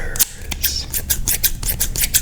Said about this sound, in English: The item was scissors.